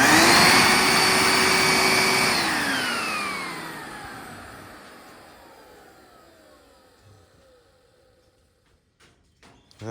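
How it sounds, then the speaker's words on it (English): A Hoover wet/dry vac on flooded carpet whines loudly up close, then its motor pitch slides steadily downward as it spins down and fades almost to silence, ending with a few light knocks and clatters. "the Hoover wet dry vac"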